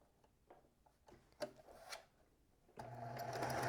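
A small sewing machine stitches quilt block pieces together. Light handling taps come first, then the motor starts up with a steady close whir near the end.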